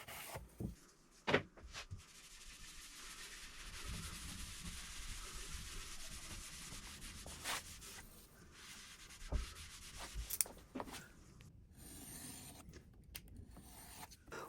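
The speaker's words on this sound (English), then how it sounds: "We'll give it a very light hand sanding and then a coat of wax." Steady dry scraping of light hand sanding on a Baltic birch side table, continuous and close, with a few sharp knocks and clicks scattered through.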